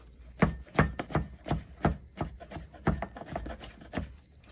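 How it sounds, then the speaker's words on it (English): A knife rough-chops sautéed, cooled scallops and shrimp on a cutting board in a steady run of about a dozen close, thudding strikes with no one talking. "Just put a rough chop on it."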